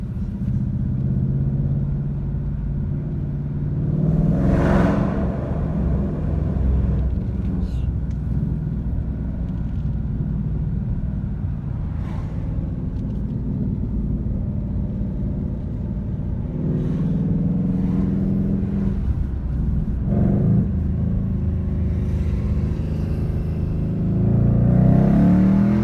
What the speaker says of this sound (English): This is what the Mustang feels like.